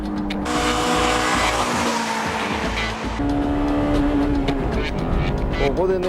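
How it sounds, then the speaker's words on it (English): A Honda Civic Type R EK9 engine revs hard past 6,000 rpm and climbs in pitch, close and loud, with a brief drop as it shifts before pulling up again. "When I shift to third, the VTEC doesn't work"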